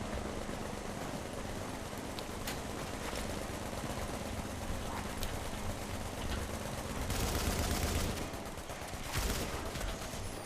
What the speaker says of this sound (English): It's a light machine gun.